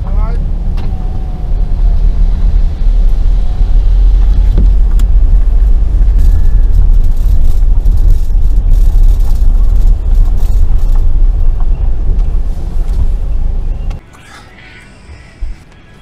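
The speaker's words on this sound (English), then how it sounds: "Never thought we'd be driving around the circuit, certainly in the van, did you?" A van driving a lap of the Silverstone circuit, its steady loud engine and road rumble filling the cabin before it suddenly drops away near the end.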